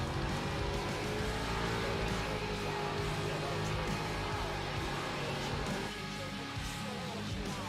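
An ARCA Series race car does a victory burnout at Atlanta Motor Speedway, its engine roaring at high revs with screeching tires, loud and unbroken, easing a little near the end.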